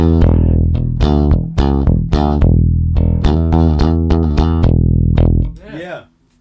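Punchy bass guitar notes through a MESA/Boogie Subway Bass DI preamp pedal, with a distorted, processed edge, play a plucked riff in a steady rhythm, loud and close, before a brief squiggly tail and silence.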